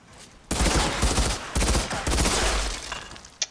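A double gun in the shooter game Outriders firing in rapid, loud bursts, two sustained volleys broken by a short gap, then tapering to quieter scattered shots and a final sharp crack.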